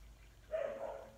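A young dog barks indoors at something heard outside, giving a short, faint, drawn-out bark or whine with no talk.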